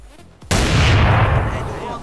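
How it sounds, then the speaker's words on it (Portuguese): A single loud gunshot from a gun fired in the video game GTA San Andreas, a sharp blast after brief quiet, followed by a boomy reverberant decay that lingers under the sound. "Eu vou dar um tiro em um aqui"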